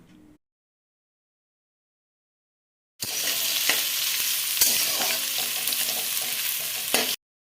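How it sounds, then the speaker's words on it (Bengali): Chopped onions sizzle steadily in hot oil with bay leaf and whole spices, a close, loud frying hiss with occasional stirring scrapes, running for about four seconds after a silent stretch. "তারপর তেলের মধ্যে কুচানো পেঁয়াজগুলো দিয়ে নেড়েচেড়ে লাল করে ভেজে নিলাম"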